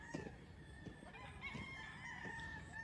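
Chickens at a breeding farm in Lipa City, Batangas, Philippines, with pullet hens clucking and a rooster crowing, faint and somewhat distant amid farm background.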